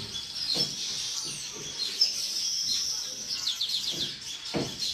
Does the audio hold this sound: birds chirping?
yes